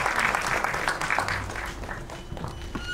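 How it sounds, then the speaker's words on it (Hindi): Loud applause from the audience at a Bollywood film trailer launch event, dense clapping and crowd noise sustained close up through the whole stretch with slight swells. "अटल बिहारी वाजपेयी जी के लिए एक बार जोरदार तालियां हो जाएं."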